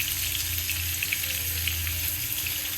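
Fish fries in hot oil, a continuous crackling sizzle with a low rumbling undertone, steady and fairly close.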